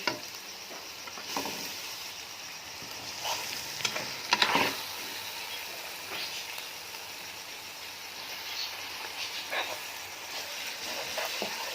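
Masala for chicken chana curry frying in a pot, a soft continuous sizzle with intermittent scraping stirs of a spoon, fairly quiet and close.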